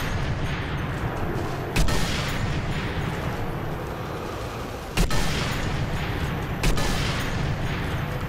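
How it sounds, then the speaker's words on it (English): A sniper rifle fires three sharp shots spaced a few seconds apart in the Sniper Elite 3 video game, the sharp cracks standing out over a dense, rumbling wash of battlefield noise. "I like this sniper rifle. It's quick firing."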